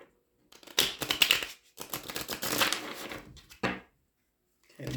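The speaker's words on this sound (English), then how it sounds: "Two more butterfly shuffles" Tarot cards being butterfly-shuffled in quick, crisp riffling bursts, a few separate shuffles with short silent gaps between them, close up.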